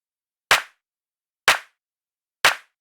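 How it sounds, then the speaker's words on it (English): Three identical clap drum samples from a funky house pack, each a sharp, crunchy hit that decays quickly, sounding alone and evenly spaced about a second apart with silence between them. "Yes, we've got another clap here. It's just one out of the funky house pack."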